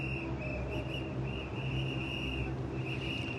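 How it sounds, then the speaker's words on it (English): Shrill, sustained whistles sound over the starting grid of a WTCC touring car race in Shanghai, a steady high tone with short breaks running across a dense background rumble of crowd and engines. "Awful lot of whistles blowing"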